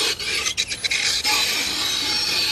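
A sound effect imitating fingernails scraping a chalkboard: a harsh, high rasping scrape with a few quick stuttering strokes, then one sustained shrill drag, close and alone.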